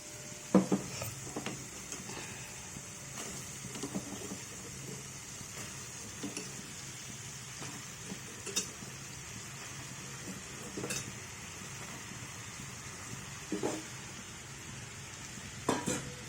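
Eggplant pieces tipped into a simmering tomato and pigeon pea curry and stirred, with a constant soft sizzle under scattered spoon clanks and scrapes against the pot, close and moderately quiet.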